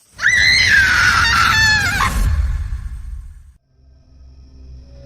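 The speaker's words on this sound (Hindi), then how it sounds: "तनु की माँ की चीख सुनकर अब पिता की भी नींद खुल गई थी।" A woman's loud, sustained scream in a horror story, high and wavering for about two seconds before trailing off into a low rumbling background.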